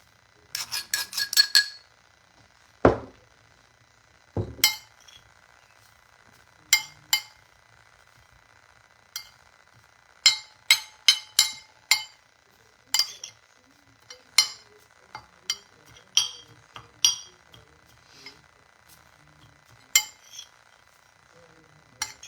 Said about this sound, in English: Let's give that a stir.